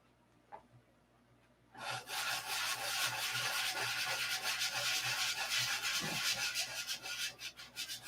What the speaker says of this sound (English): Kind of gives you an insight to how I sand, I guess.